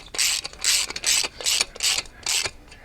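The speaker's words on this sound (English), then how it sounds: "Oh, we have an impact wrench." A cordless impact wrench tightens a flare nut on a MrCool 24K BTU mini split line set at the outdoor unit. Five short, loud bursts of rapid hammering come in a steady rhythm, close up and with no speech over them.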